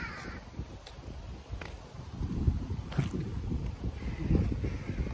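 Strong wind buffets the microphone in rough low gusts that swell and fade, with a few faint bird calls in the distance.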